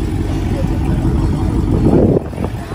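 Loud, close engine rumble of a 2020 Dodge Charger Hellcat Widebody, a steady low growl that swells briefly near the end and then drops back, with people talking over it.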